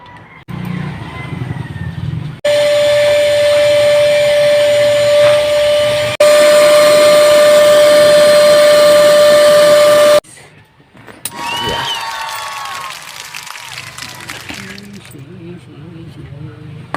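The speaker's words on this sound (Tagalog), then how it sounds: "Tapos na tayo mag vacuum." A household vacuum cleaner runs with a loud, steady whine and a sustained tonal hum for several seconds, then cuts off abruptly. A person talks before and after it.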